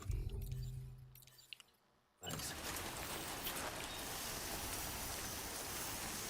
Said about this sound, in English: It's raining a lot more than I thought it would in Australia.